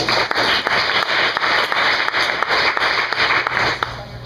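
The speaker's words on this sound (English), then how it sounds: "Let's give him a big round of applause." An audience at a PKN DSM event applauds a speaker with loud, continuous clapping from many hands, holding steady before stopping near the end.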